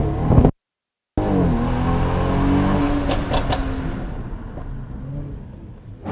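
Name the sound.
car accelerating, speaker's new car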